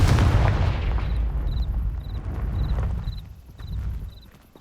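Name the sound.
Confringo blasting spell explosion, Hogwarts Legacy video game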